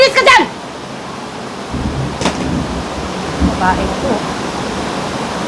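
Heavy rain pours in a steady, broad hiss throughout, with a few brief voices and knocks over the top.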